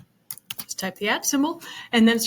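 Typing on a computer keyboard, a quick run of clicky keystrokes at close range, mixed with a voice speaking over them.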